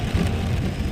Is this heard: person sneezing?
no